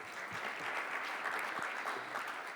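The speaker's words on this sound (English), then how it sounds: "One more time, round of applause for them, please." An audience at a manufacturing summit gives a steady round of applause for panelists, with continuous clapping heard at moderate distance throughout.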